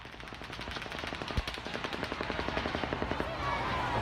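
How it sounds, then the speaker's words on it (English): Sustained rapid automatic gunfire at the Las Vegas shooting scene in a witness recording, a long steady stream of distant cracking shots with one sharper bang early on, under faint crowd noise and background voices. "this one really shows the immediate response following these gunshots"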